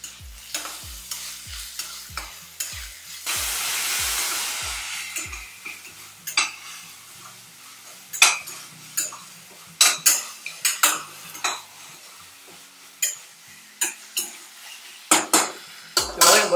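Green chillies being sautéed in a pan for prawn biryani, with repeated metal clinks of a spoon stirring against the pan over a low sizzle and a soft scraping wash. No talking.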